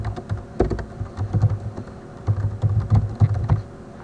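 Typing a name on a computer keyboard, a quick run of close, crisp key clicks in irregular bursts with short pauses, alone without talk.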